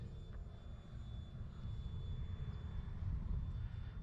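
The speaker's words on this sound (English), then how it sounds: "Man, this plane flies so slow, and this is an EDF at that." An E-flite Habu STS electric ducted fan RC jet flies on a windy day, a steady distant whooshing drone under heavy wind rumble that swells slightly toward the end.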